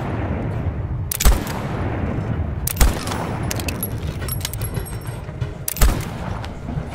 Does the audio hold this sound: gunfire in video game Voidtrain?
yes